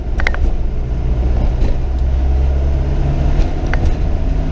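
A 1997 Land Rover Defender 90 with the 300 TDi diesel engine rumbles steadily while driving on a test drive, a constant low drone with faint road noise and a few brief higher clicks.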